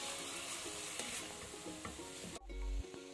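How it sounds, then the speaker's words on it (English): Lamb curry ingredients with salt are stirred in a sizzling pan, a close hiss broken by utensil scrapes, then a sharp clatter and a heavy thump near the end. "And mix these ingredients around together."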